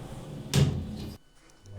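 Lift doors open in a video game with a single sliding rumble and clunk that lasts about half a second, then drops to near silence before a low hum returns.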